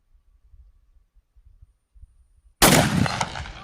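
A single loud rifle shot from a Winchester 1886 in 45-90 bursts in after low, quiet rumbling and rings out with a decaying echo.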